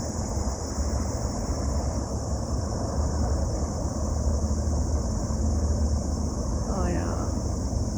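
Large airplanes at an airport seen from a hill viewing point: a steady, broad jet rumble and roar with wind buffeting, continuous throughout, while people talk over it.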